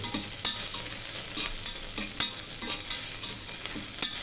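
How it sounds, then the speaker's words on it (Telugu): Whole black peppercorns frying in a pan for a vegetable rice dish, a steady hissing sizzle broken by repeated scraping stirs, close and loud with no voices. "మిరియాలు మొత్తం ఇట్లా వేగనివ్వండి"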